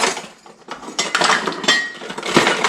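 Metal cutlery and utensils clatter and clink as a hand rummages through a drawer or container for a tablespoon, in a busy, close jangling burst of a few seconds.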